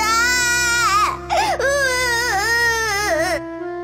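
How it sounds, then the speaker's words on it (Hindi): A cartoon baby cries from inside a cut-open pumpkin, a loud, sustained wailing cry with rising and falling pitch, close and continuous for several seconds before stopping abruptly. "उसमें से एक बच्चे के रोने की आवाज आने लगी।"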